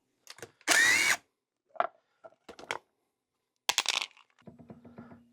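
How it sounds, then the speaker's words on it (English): A power tool tightens down a bolt on a poorly built bike near the crankshaft, heard as short close whirring bursts separated by pauses, followed by a quick run of light ratcheting clicks. "when you tighten down a bolt like this"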